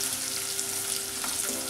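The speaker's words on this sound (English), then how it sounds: "Now we'll saute it." Chopped onion, ginger and green chili sautéing in a hot pan for a fish curry, giving a steady, close sizzle and crackle of frying throughout with no talking.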